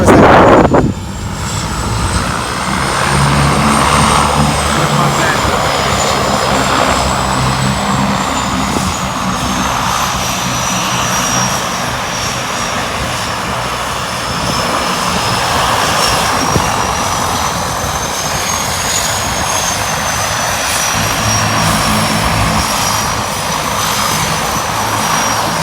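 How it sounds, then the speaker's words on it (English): A seaplane flies in to land at Niyama Private Islands in the Maldives, its propeller engine a loud, steady drone that holds throughout with slowly shifting pitch and no talk. "The arrival until a seaplane coming in."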